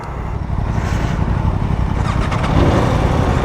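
A 2024 Aprilia RSV4 motorcycle engine running loud and close in a continuous steady roar, alone with no voices.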